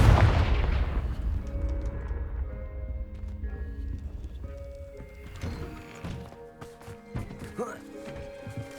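Fire spell blasts in the Hogwarts Legacy video game, a loud booming burst at the start that decays into crackling, rumbling impacts and scattered sharp hits over several seconds.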